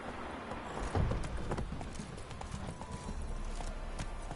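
Horse hooves clip-clop in a steady walking rhythm in the video game Witcher 3, close by, with a few soft snorts mixed in.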